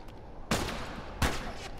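Gunfire in The Last of Us: Left Behind video game: two sharp, loud shots about three-quarters of a second apart, each with a short ringing tail, over a quiet background.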